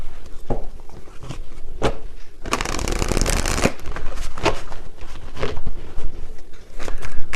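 Tarot cards are shuffled close up in repeated riffling bursts, with one long continuous riffle in the middle, all clear and fairly loud without any talk.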